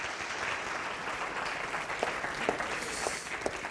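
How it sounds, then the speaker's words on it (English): Applause from the audience at a business awards ceremony: steady, moderate clapping held at an even level from beginning to end, with a few sharper individual claps standing out near the end. "they all deserve a huge round of applause"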